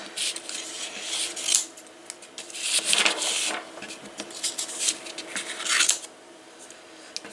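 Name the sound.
cutting paper with scissors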